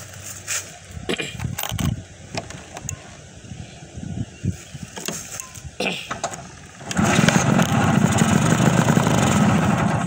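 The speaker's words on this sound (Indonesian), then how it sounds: "Sekarang mungkin teman-teman juga penasaran bagian sektor mesinnya dengan suara knalpotnya seperti apa. Kita hidupin dulu." A Vespa Strada scooter is started, with a few mechanical clunks and bursts before its engine catches, then settles into a steady, close, fairly loud idle with exhaust rumble that continues to the end.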